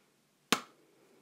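A single sharp hand clap, close and crisp, with a short decaying tail and no talk, made while clapping along in time with a teacher in a children's phonics lesson.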